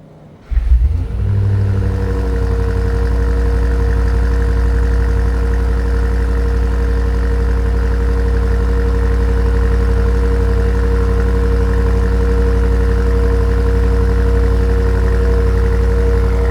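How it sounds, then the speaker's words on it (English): A 2025 BMW M5 Touring plug-in hybrid with a 4.4-liter V8 cranks and fires after a brief quiet moment, then settles into a deep, steady, loud idle that hums on unbroken, close up, with no voices. "I'm going to put it in dynamic plus so you can hear the gas engine start up"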